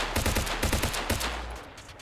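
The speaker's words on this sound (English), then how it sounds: "Drop the suppressor off both of these weapons." Rapid unsuppressed rifle fire in Arma Reforger, two quick bursts of sharp close cracks, roughly eight shots then a short pause and a couple more, fading out with a brief tail.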